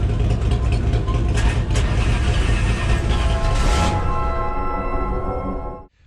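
A street-legal NASCAR race car drives by with a loud, steady engine roar that holds for several seconds, then cuts off abruptly near the end.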